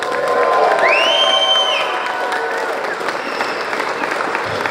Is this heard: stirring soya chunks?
no